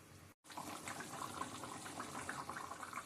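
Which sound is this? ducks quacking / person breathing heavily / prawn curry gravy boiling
prawn curry gravy boiling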